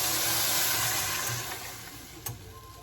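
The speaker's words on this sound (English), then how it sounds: "we're gonna add the water" Water pours into a hot cooking pot, a brief hissing splash that sizzles loudly at first, then settles into a quieter simmering bubble, heard up close.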